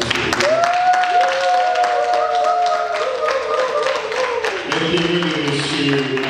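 Applause breaks out for the husband at a civil wedding ceremony in Brazzaville, a steady wash of clapping heard close by beneath a held musical tone and a voice.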